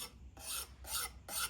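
Three short, close scraping rubs sound as a fiberglass-reinforced plastic part of an Intend Flash Blackline mountain bike component is handled. The rubs are quiet and come in a quick rhythm with brief gaps between them.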